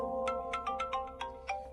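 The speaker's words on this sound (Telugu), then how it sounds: "ఏ ఫోన్ వస్తుంది చూడు." A phone ringtone plays a short run of bright, repeating electronic chimes in a quick, even rhythm. It sounds fairly soft and sits alone with no talk.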